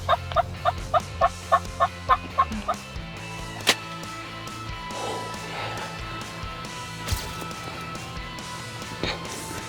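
A wild turkey tom gobbles in a rapid burst of about ten sharp, rhythmic pulses near the start, then quieter outdoor ambience follows with a few faint thumps and rustles.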